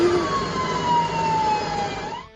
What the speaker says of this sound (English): Sirens echoed endlessly as rescue crews scrambled.